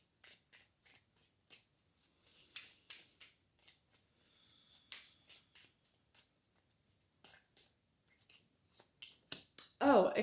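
Tarot cards being shuffled by hand: a quiet series of short riffling and slapping bursts in an irregular rhythm, with one louder burst of handling right at the end.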